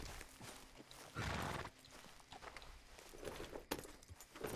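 Horse in Red Dead Redemption 2 clip-clopping at a walk with a short whinny, steady hoof beats close by over quiet outdoor ambience, no talk.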